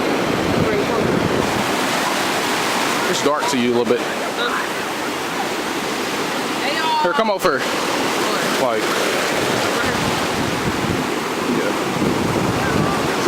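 Ocean surf at a beach, heard from down in the water as a constant loud wash with wind buffeting the microphone, while people nearby chat and call out.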